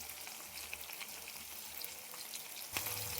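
Onion and tomato frying in plenty of oil, a soft, steady sizzle with faint crackles, then a louder stir or scrape near the end.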